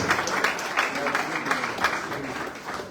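Congregation in a church applauding, dense continuous clapping from many people with voices mixed in.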